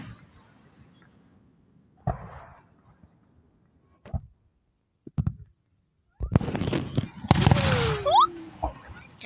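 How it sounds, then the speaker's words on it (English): Independence Day fireworks pop and boom at a distance in scattered bursts, then a denser, louder stretch of crackling explosions with whistling streaks, and voices speak in between. "back to the fireworks"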